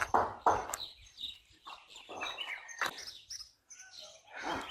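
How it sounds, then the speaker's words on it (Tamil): Birds chirping around a quiet Nilgiri hills village near a temple, several close sharp tweets and calls in irregular bursts over a still background. "பறவைகளோட சவுண்டு"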